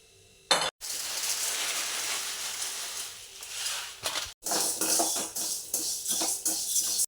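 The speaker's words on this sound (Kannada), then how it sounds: "ಶಾವಿಗೆಯಿಂದ ಮೊದಲಿಗೆ ಶಾವಿಗೆಯನ್ನು ಸ್ವಲ್ಪ ಹುರಿದುಕೊಳ್ಬೇಕು." Vermicelli roasts in a pan with a loud, steady hiss and crackle, broken briefly by a couple of clinks and a short pause, then continuing with stirring scrapes layered over the sizzle; no one speaks.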